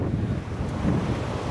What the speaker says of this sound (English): Weather conditions? Cold, windy.